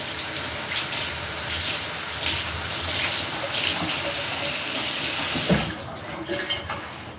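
Tap water runs steadily into a kitchen sink during rinsing, a constant close hiss and splash that cuts off near the end, followed by light clatter.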